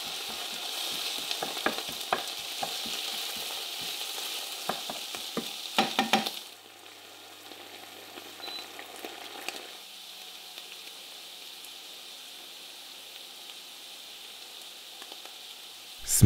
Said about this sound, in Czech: Česnek hodím na pánev a hnedka stáhnu výkon sporáku na 7.